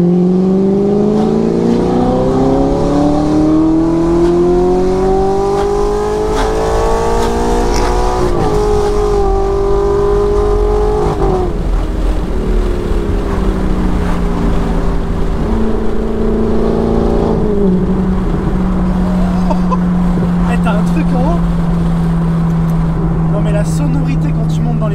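Audi R8 V8 supercar engine with a dual-clutch gearbox revving high, a loud sustained roar that climbs steadily in pitch, then drops and holds steady, continuous throughout with people talking over it inside the car.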